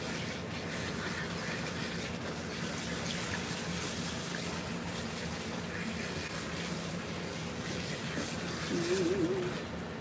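Water running over a long-haired cat during grooming, a steady close rush of flowing water with a faint brief animal cry near the end.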